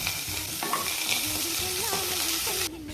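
Curry leaves sizzle and fry in a pan for a carrot and beans stir-fry, a steady dense crackle with stirring throughout, close and fairly loud, ending in a brief quieter moment.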